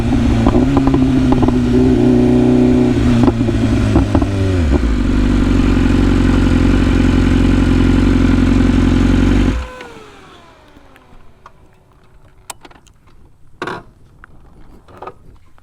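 A 2025 BMW S1000RR motorcycle engine roars loudly and close while riding, its revs dropping partway through, then the sound abruptly falls away to near quiet broken by a few scattered knocks.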